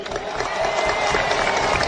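Applause for a Venezuelan leader's tribute to Colombia's president Iván Duque rises as a dense, steady wash of many hands clapping, sustained and fairly loud with no talk over it.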